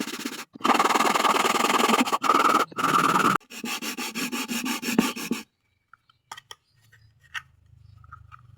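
Sandpaper rubbed over a PVC pipe speaker horn in quick back-and-forth strokes, a loud close scratchy rasp in repeated bursts that stops partway, leaving faint handling clicks and light rustling.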